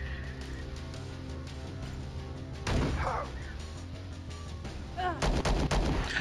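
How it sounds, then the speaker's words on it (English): Gunfire in the video game Star Traders Frontiers: a steady low rumbling game soundscape broken by two loud bursts of shots and impacts, one near the middle and another toward the end. "we're just going to start shooting"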